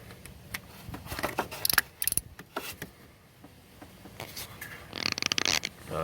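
A ratchet works a 10 mm bolt on a Toyota/Scion cam position sensor, with faint metallic clicks and short bursts of rapid ratcheting amid clunks and handling noise, quiet and close.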